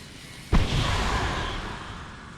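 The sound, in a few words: mortar explosions in video game Star Trek Online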